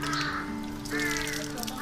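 A crow caws at dawn in a Bangladeshi village on a foggy winter morning, two drawn-out calls close by with a short gap between them.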